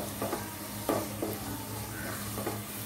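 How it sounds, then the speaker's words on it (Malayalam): Ginger garlic paste sautés in a pan for Kerala-style beef biryani. The sizzle is close and steady, with a few quick stirring scrapes. "ഇതിൻ്റെ പച്ച മണം മാറുന്നത് വരെ നമുക്കൊന്ന് വഴറ്റി കൊടുക്കാം."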